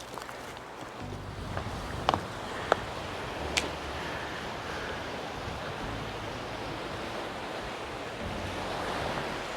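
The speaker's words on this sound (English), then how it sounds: "The more we go near the sea, we have more wind." Sea waves and wind roll along the rocky cliff coast at Birzebbuga, Malta, a broad steady roar with gusting wind on the microphone and a few faint clicks, no talking.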